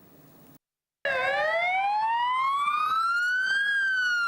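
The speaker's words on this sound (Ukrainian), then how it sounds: "Пожежна машина з сиреною наближається до об'єкта" A fire engine's wailing siren sounds loud and close, sweeping steadily upward in pitch after a brief silence, with traffic noise beneath it as the truck approaches.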